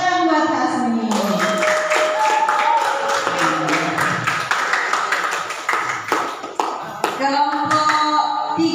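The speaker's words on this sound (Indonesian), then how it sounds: "Tepuk tangan buat Asmi." Students in a classroom clap for Asmi in loose, uneven bursts of handclaps, mixed with children's voices and some tonal sounds.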